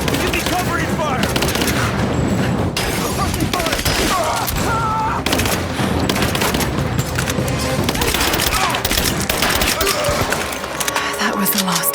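Dense, sustained automatic gunfire and scattered explosions from a firefight in the video game Rise of the Tomb Raider, loud and continuous throughout, with shouted voices mixed into the battle.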